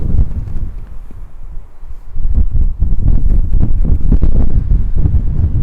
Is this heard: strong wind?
yes